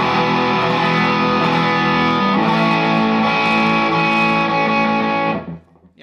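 Sustained distorted electric guitar strumming a full major chord including the major third, a rock power-chord style tone ringing loudly for about five seconds before being cut off and fading.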